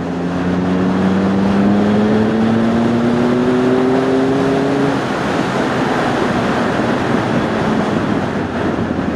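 A Triumph Speed Triple ABS super naked motorcycle rides at speed, its engine drone rising in pitch under a loud, continuous rush of wind noise that dominates the whole stretch.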